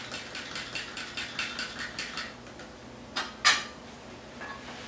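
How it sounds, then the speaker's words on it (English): A fork clinks rhythmically against a bowl while whisking a thin slurry for a broth, a quick series of light metallic taps followed by a couple of sharper knocks near the end. "I'm just going to take my fork and mix it"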